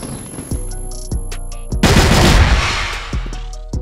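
Video game gunfire cracks out in sharp separate shots at an uneven rhythm, with a heavier burst of loud noisy firing in the middle, loud and close and with no voices.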